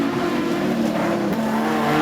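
Production sedan race cars roar around the dirt track at Maryborough Speedway, a loud sustained engine drone with shifting pitch as the cars circle, heard alone without commentary.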